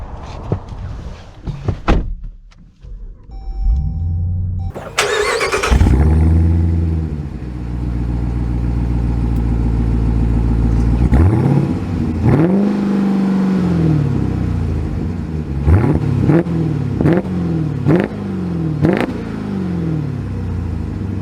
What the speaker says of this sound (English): So we are setting off in the Hellcat Durango